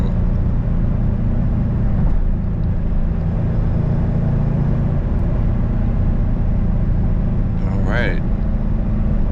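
A 2003 SVT Cobra being driven, its engine a continuous low rumble from inside the cabin, with a brief squeal near the end.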